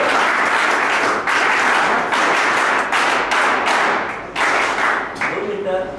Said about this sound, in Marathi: जोरदार टाळ्या स्वतःसाठी वाजवायच्या आहेत